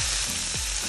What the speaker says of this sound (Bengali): ভালো করে পেঁয়াজ আর ক্যাপসিকামটা আমি ভেজে নেব